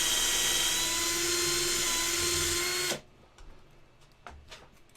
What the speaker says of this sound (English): see how easy that bigger drill is getting into that